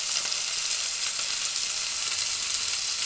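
Ginger and garlic frying in hot oil in a pan make a steady, bright, hissing sizzle with faint crackles throughout, close and continuous with no talk.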